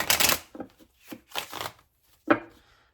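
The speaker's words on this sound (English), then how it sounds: "So this deck I do have to shuffle in 2 parts because these cards are thick" A deck of thick tarot cards is riffled in two parts: a long loud shuffle, then several shorter crisp bursts of card flaps, close up and with no talk.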